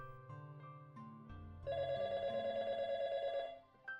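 An office telephone rings indoors. A loud, steady electronic ring tone plays for a couple of seconds after some softer tonal sounds, and it stops abruptly.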